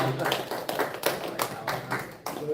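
A small church congregation claps during a Sunday service in a quick, uneven patter with some voices mixed in. The clapping is fairly faint and muffled.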